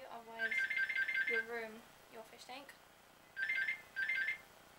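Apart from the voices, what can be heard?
telephone ringing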